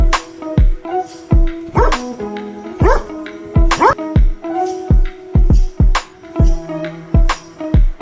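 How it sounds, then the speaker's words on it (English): A dog barks repeatedly in sharp, close bursts, with some yips and whimpering tones between the barks, in an irregular rhythm. "D for dog."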